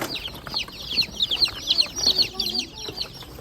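Baby chicks peep and chirp in a dense, steady chorus of high, rapid calls, close by and continuous, with faint background shuffling.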